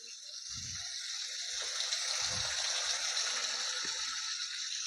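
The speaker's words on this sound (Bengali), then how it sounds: "এবারে এর মধ্যে আমি একটু জলের ছিটা দিয়ে দেবো, যাতে মশলাটা পুড়ে না যায়।" A splash of water hits frying spices for a Bengali chickpea dal, raising a steady, close sizzling hiss that carries on evenly with faint low knocks beneath.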